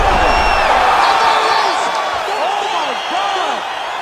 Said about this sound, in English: Yeah, man, crowd loving it.